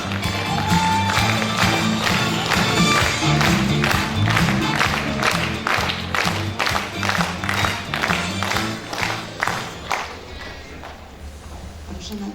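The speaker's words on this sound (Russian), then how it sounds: "Бурными аплодисменты встречаем наших танцоров." Audience applause for dancers at a creative evening in a district house of culture in Starobaltachevo, a dense, steady clatter of many hands that fills the hall, then thins and fades toward the end.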